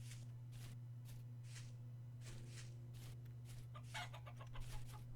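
Chickens clucking in Vintage Story, a handful of short, scattered calls in a steady low-humming outdoor world, moderately close and alone with no talking.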